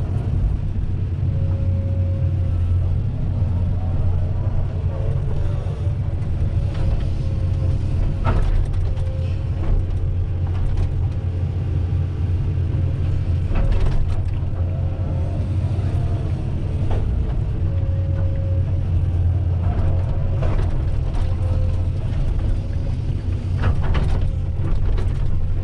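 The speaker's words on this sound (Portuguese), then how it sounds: "E é gostoso trabalhar com a escavadeira." A Komatsu PC-200 hydraulic excavator works, heard from inside as a continuous loud diesel rumble with creaking, clanking and ratcheting mechanical knocks scattered throughout.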